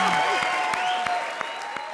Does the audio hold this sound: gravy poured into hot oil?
no